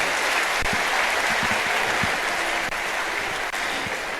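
Sustained applause from an audience at an official event in Delhi with the Deputy Chief Minister, a dense steady wash of clapping lasting several seconds with a few sharper claps standing out.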